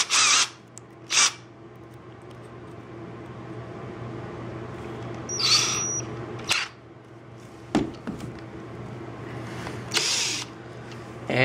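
Cordless drill fitted with a 1/16 inch bit boring small holes, heard as several short, sharp whirring bursts separated by quiet pauses over a low steady hum.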